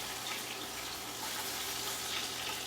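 Scallops searing in hot olive and sunflower oil give off a steady, bright hiss and crackle that stays continuous and fairly close throughout, with no talking.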